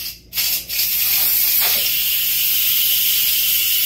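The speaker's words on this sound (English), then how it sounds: "we need to release the steam right away" An Instant Pot releasing pressure-cooker steam through its vent valve gives a loud, steady rushing hiss after a couple of brief bursts.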